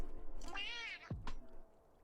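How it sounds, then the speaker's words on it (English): A cat held up to a door camera gives one drawn-out, rising and falling meow, close and clear, followed by a short chirp over a low background hum. "It's such a special meow too."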